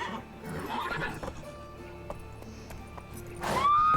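Roach the horse in The Witcher 3 gives a loud, squealing whinny near the end, preceded by soft hoof clip-clops and quiet ambient sounds.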